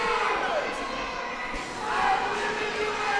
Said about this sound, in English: I don't know if you can hear the crowd chanting behind us.